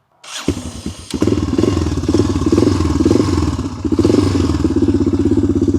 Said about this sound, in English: So it's like a proper thumper sound.